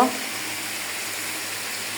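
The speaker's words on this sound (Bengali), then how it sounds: "ভালো করে কষিয়ে নেব।" Chicken curry being stir-fried with ground spice paste in hot oil, making a constant moderate sizzle that opens with a brief louder burst and then settles into an even crackle.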